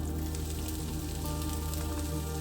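Onion hitting a hot pan of frying chili mixture for a Kerala prawn and ridge gourd roast, a loud, steady sizzle and crackle running continuously without any talk.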